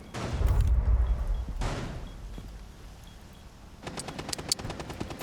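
Gunfire in Rainbow Six Siege, a heavy booming burst up front followed by a rumbling blast, then a rapid string of sharp automatic shots toward the end.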